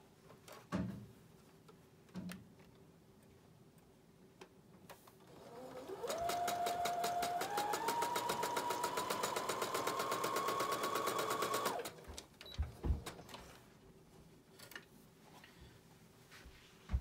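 Sewing machine stitching quilt binding strips together, running in one steady rapid burst of about six seconds and rising slightly in pitch, framed by a few clicks and handling knocks before and after.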